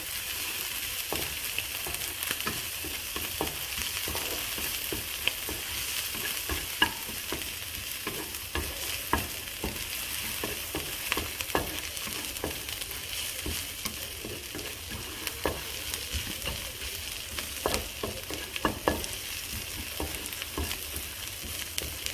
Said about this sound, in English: Stir, stir, stir, stir until you can smell something out